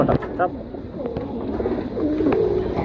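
Pigeons of a matched breeding pair coo softly outdoors, low murmuring calls rising through steady background noise, with a voice speaking nearby over them.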